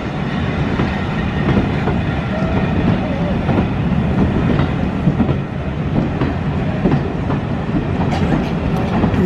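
A heritage passenger train rumbles steadily along the rails with a dense, continuous roar and faint rhythmic clacks, heard from inside a carriage with occasional voices underneath.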